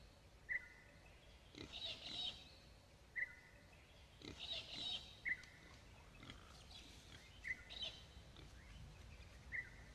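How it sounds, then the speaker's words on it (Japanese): Wild peccaries, pig relatives foraging in a group, give short grunts at a distance, five or six brief calls spaced evenly amid faint bird chirps and soft background ambience. "ペッカリー、イノシシの仲間です。"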